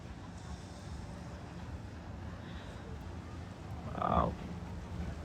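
Boat moving across the water in Halong Bay, a steady broadband rush of hull and water noise with wind buffeting the microphone, swelling briefly near the end.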